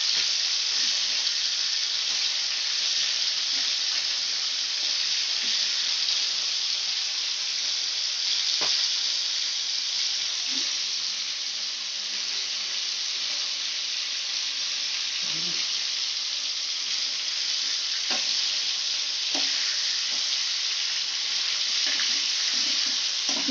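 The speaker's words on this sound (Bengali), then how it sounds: "এবার চিংড়িগুলোকে ভাজা হয়ে গেছে," Giant freshwater prawns (galda chingri) frying in hot oil, a steady loud hiss running unbroken from start to finish, close up, with a few faint clicks and taps scattered through and no talk.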